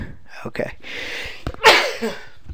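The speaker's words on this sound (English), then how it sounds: "I'm going to sneeze" A single loud sneeze comes after a short inhale and a quietly spoken word, with a sharp, breathy burst near the end.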